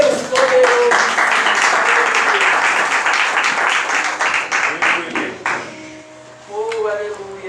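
A church congregation claps their hands together to glorify God, a dense, loud wash of applause that holds steady for several seconds, then thins and fades as a voice speaks briefly over the tail.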